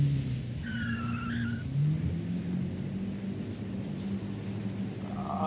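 Tires screech steadily as a car drifts in Forza Horizon 5, a sustained squeal layered over a droning engine, with a higher chirp of tire noise partway through, close and continuous with no voices.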